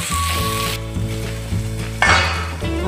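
Onion and bitter gourd sautéing in a pan with a little sugar, a bright sizzle broken by repeated stirring scrapes and utensil knocks, close up and without talk.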